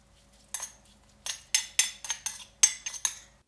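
An egg mixed with mayo and a pinch of salt in a bowl: a spoon clinks and scrapes against the bowl in a quick, irregular run of about a dozen sharp taps, close and clear with no talking.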